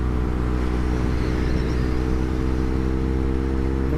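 A BMW R1200 R motorcycle's big-cylinder boxer engine drones steadily as the throttle is released, a loud, close, continuous rumble that runs unbroken without talk.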